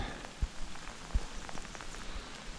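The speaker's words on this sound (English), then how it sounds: "Do you hear the rain coming down?" Rain falling steadily in woods where a heap of trees lies down, a soft continuous patter with a few louder drops landing close by.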